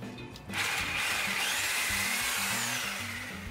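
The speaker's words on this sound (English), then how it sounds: "Hold this really tight while I take the sawzall to it." A reciprocating saw cuts into the body of an ambulance being stripped, a loud sustained buzzing rasp that starts abruptly after half a second and runs steadily to the end, with a low rattling hum beneath.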